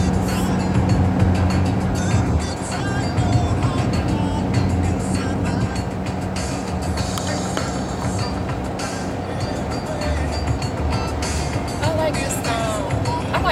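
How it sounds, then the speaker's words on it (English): A car drives through the mountains with a continuous broad road and engine noise from inside the cabin, and a voice talks over it throughout. "Driving through the mountains."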